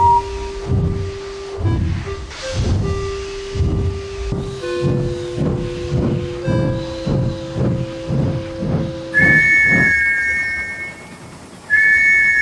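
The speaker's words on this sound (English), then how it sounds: "Soon, the guard's whistle blew, and Henry was set off." A steam train's rhythmic chuffing and whistle tones give way to a loud, sustained, shrill two-tone departure whistle, which sounds again briefly near the end.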